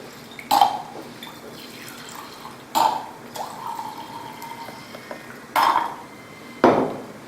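Liquid solvent is poured and stirred in a glass beaker, with several sharp clinks of glass at intervals over a soft continuous trickle.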